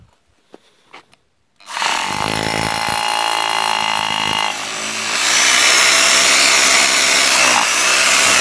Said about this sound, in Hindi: ड्रिल की आवाज़ तो आएगी, आवाज़ तो आनी चाहिए